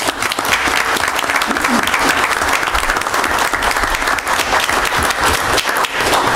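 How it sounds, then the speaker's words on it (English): An audience at a township mental health symposium gives superintendents a big round of applause, loud dense clapping that holds steady for several seconds. "I think we should give them a big round of applause."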